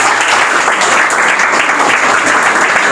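An audience at a school award ceremony gives a student a loud, dense round of applause: steady clapping from many hands with no pauses.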